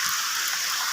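Rain falls in a dense, steady hiss of drops, loud and even over a brief moment with no voices.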